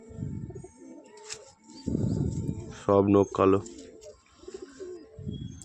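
A Giribaz pigeon coos twice in the middle, deep and throaty, between someone speaking nearby.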